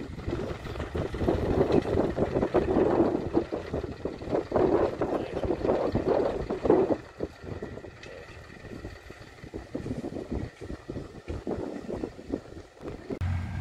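An Indo Farm tractor driving along with a lawn machine hitched behind. Its engine makes a rough, continuous rumble that is heavily buffeted by wind noise on the microphone and eases off a little in the second half.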